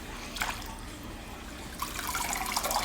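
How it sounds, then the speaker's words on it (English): Water sloshes and splashes in two short bursts as a canister filter sponge is dunked in clean water, a soft dunk followed by dripping and trickling, close by and fairly quiet. "I will probably just dunk it once in the clean water to get off any loose chunks"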